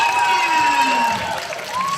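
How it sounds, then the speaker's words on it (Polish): Audience at a kids' modern dance performance cheering and applauding, a dense, steady crowd roar with whoops and shouts, while an amplified voice talks over it. "i ogromne, ogromne brawa!"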